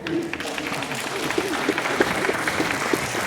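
Church congregation clapping together at a Korean mission church Sunday service in Berlin, steady dense applause throughout with a voice briefly audible over it.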